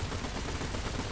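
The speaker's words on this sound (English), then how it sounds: "let's see what all those machine guns look like in concert" Several tank machine guns firing together in the War Thunder video game, a dense, continuous loud rattle of rapid gunfire filling the whole short burst.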